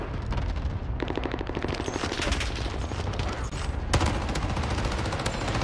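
Rapid automatic gunfire from Call of Duty Vanguard Warzone is heard as sustained bursts of loud game shots, with a sharp heavier report near the end and no voices.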